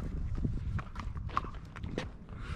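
Horses walk on hard ground through a desert ghost town, their hooves clip-clopping in a loose, uneven rhythm close by, with faint background murmur beneath the steps.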